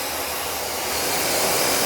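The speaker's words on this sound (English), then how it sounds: "See how it's not as noisy as the other dryer." Small pet hair dryer blowing during grooming of a Morkie, a steady close airy whoosh that runs continuously and grows slightly louder toward the end.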